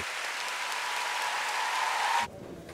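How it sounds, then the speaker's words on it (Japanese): A full audience applauds figure skater Tatsuki Machida's performance at his retirement show, a dense, steady roar of clapping that cuts off sharply near the end. "満場の喝采を浴びる"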